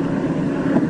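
A steady, rushing drone of an aircraft engine in flight during a polar expedition, loud and broadband throughout with a slight swell near the end and no voices over it.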